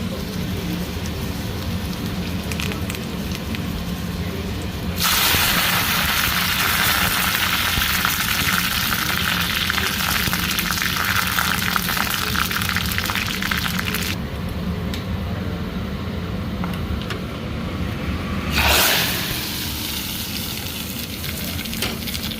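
Tempering for dal sizzling in hot oil, a steady loud hiss that surges into a fierce rain-like crackle for several seconds, then eases back with a brief swell near the end and no speech.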